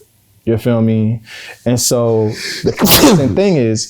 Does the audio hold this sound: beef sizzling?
no